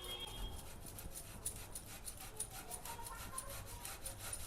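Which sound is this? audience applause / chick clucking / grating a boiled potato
grating a boiled potato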